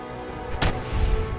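A single sharp gunshot from a weapon in the game Fallout 4, a loud close blast with a short boom tailing into the steady game ambience.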